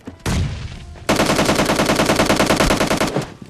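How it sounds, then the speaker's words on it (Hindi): Sustained automatic gunfire in a shooter video game, an enemy firing upward: a short burst followed by a long, loud, rapid continuous spray lasting about two seconds, close and dominant with no talk. "भाई साहब नीचे नहीं ऊपर फायरिंग कर रहे हैं"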